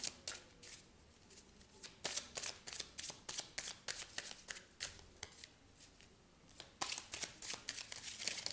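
Tarot cards are shuffled and drawn by hand, giving a series of quick, close papery flicks and snaps in an irregular rhythm over a quiet background.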